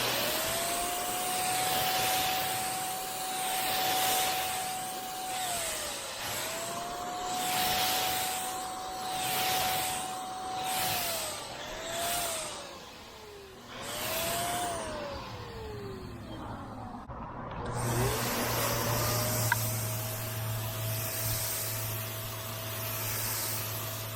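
A Wagner Flexio 3000 paint sprayer spraying water-based paint gives a steady motor whine that rises and drops in pitch as it cycles on and off, with a hissing airflow and a brief pause before it restarts.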